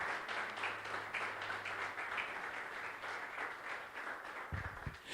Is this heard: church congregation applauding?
yes